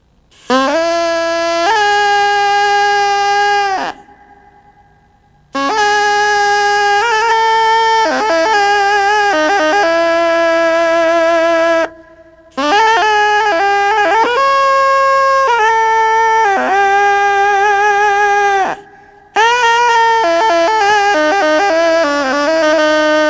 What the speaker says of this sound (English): It is called chirimia and has been inherited from generation to generation from our Mayan